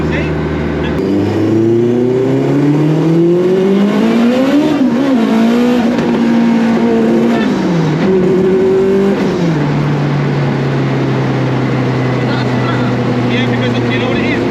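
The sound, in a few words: AWD Honda Civic EG engine, throttle on and off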